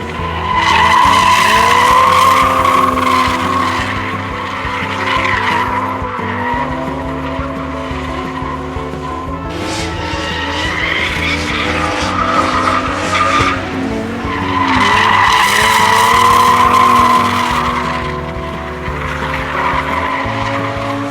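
A naturally aspirated JDM Toyota drifts on a track, its engine droning and revving while the tires skid and squeal in long loud surges, easing off and then building again.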